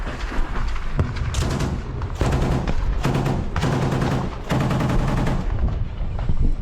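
Rifle gunfire in combat during fighting in Avdiivka: loud, dense, sustained bursts of rapid shots with heavy booming echoes, broken by brief pauses, with no talk.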